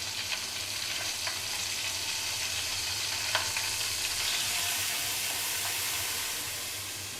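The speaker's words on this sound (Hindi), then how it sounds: "मसाले को भूनते हैं अच्छी तरह।" Spices and ginger paste fry in a pan for nihari, giving a steady, close sizzle that runs unbroken with faint stirring scrapes and no talk.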